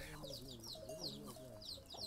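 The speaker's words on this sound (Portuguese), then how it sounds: "comprou algumas galinhas" Chickens clucking in a yard in Gambia, scattered overlapping clucks and calls close by at moderate level over faint background.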